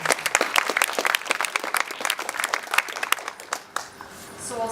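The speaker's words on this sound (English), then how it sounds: "Give her a round of applause, please" Lively clapping from a rally crowd, sharp and fairly close for about four seconds, then tapering off into a quieter murmur.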